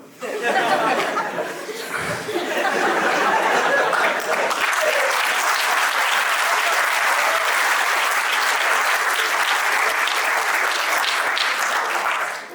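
A theatre audience at a live performance at Balgandharv Rangmandir in Pune breaks into loud, sustained applause, a dense steady roar of many clapping hands with scattered laughter mixed in near the start.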